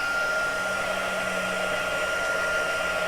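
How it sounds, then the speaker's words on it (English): A heat gun blows continuously for heat embossing, a steady close whooshing roar with a faint hum and no pauses, running alone. "Now this is a fairly quiet heat gun. It still does make a bit of a noise"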